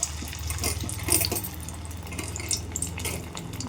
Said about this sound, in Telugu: ఇలా చేసుకొని కాగిన ఆయిల్లో వేసేసుకోవాలి